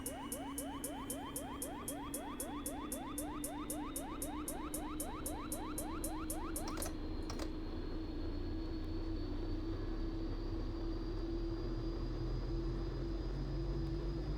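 Pilatus PC-12 turboprop spooling up to ground idle, a rising turbine whine climbing steadily in pitch with rapid rhythmic ticking early on that stops midway, leaving a loud sustained engine drone.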